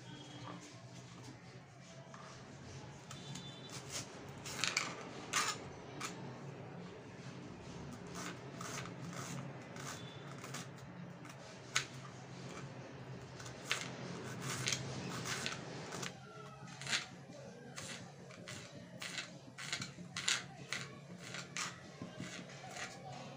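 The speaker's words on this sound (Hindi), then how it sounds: "लो जी, हमने मिर्ची भी चॉप कर ली है" A knife finely chops green chillies on a board in a home kitchen, making a run of quick, irregular, fairly soft taps and crunches over a low steady background hum.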